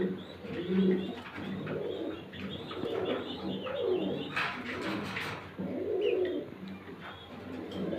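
Danish running pigeons cooing steadily in a loft, several birds giving repeated soft coos close by with a few chirps and brief wing flutters mixed in, no talking.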